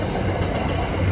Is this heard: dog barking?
no